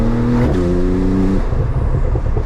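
BMW M4 Competition F82 engine roaring loud and close as it accelerates, with a sharp gear shift partway through and the rising note continuing, then a rough, broadband roar with no talk.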